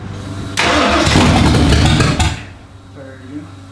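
A Stroker Windsor V8 in a budget Fox Body build is cranked and fires, a loud, close, ragged roar for about two seconds before it cuts out, followed by brief quiet voices.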